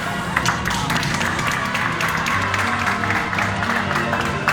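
A group gives continuous, close clapping for two European champions, a dense patter that holds evenly from start to finish.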